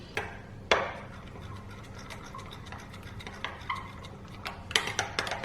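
Ginger garlic paste is stirred through a tandoori marinade in a bowl, making soft, irregular wet scraping and spoon taps up close at low volume, with no voices.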